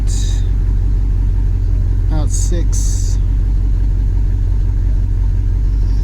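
A car engine idles steadily in drive at around 675 rpm, a constant low rumble throughout with a few brief higher chirps near the middle.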